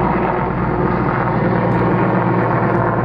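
An aircraft, either an airplane or a helicopter, flies overhead as a loud, steady engine drone with a low humming tone holding throughout.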